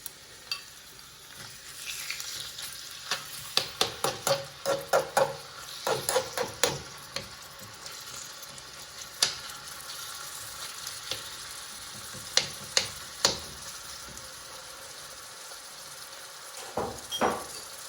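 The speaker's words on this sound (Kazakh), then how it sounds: "Бірге тауық етімен бірге қуырамыз." Chicken pieces fry with onion and garlic in butter for fettuccine alfredo, giving a soft continuous sizzle broken by sharp stirring clicks and pops in irregular bursts.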